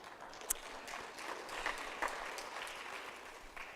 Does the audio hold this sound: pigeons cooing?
no